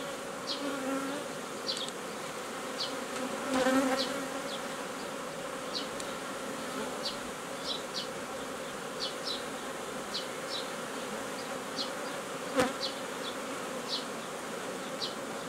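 Honeybees buzzing steadily around an opened hive whose frames are being removed, a constant close hum with individual bees passing near, and no talking.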